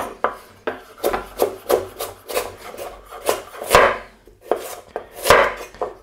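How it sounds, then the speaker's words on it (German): A knife chops carrots, skin left on, on a wooden board for a potato salad, with a dozen or so close, crisp strikes in an uneven rhythm, some landing in quick pairs. "So, die Karotten schneiden wir auch einfach ein kleines bisschen klein."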